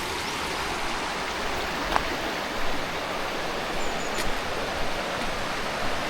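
The River Rivelin runs full in autumn, a loud, steady broadband rush of flowing water close by, unbroken throughout with only small splashes rising briefly from the roar.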